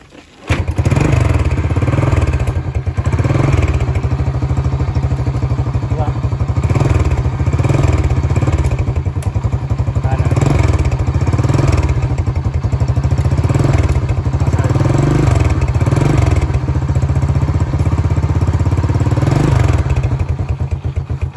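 A Rusi Yuri Wavestyle motorcycle engine idles steadily and loudly nearby, a continuous low chugging rumble with a faint regular pulsing and occasional light clatter, holding even throughout.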